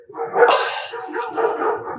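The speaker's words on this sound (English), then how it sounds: "That dog's bark for sure." A dog barks nearby, one loud, sharp bark followed by a rougher, drawn-out bark-like sound, clear and without talk over it.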